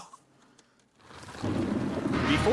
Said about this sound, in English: Oh boy, we got a storm. Rain comes pouring down.